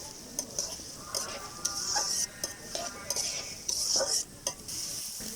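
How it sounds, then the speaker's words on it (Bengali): Radish greens (mula shak) frying in a pan while a spoon stirs them, with a series of sharp scraping and clinking strokes over a low, steady sizzle. Close and fairly loud, with no voices. "সব কিছু এখন আমি 5 থেকে 7 মিনিট নাড়াচাড়া করে নেব"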